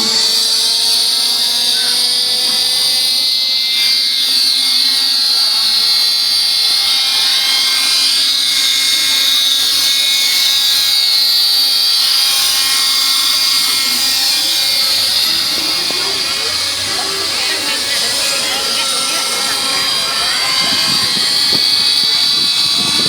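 A fuel-powered model airplane engine screams continuously at high pitch, a steady loud buzzing whine that shifts slightly as the aircraft maneuvers through stunts in a confined area near buildings, with no talk.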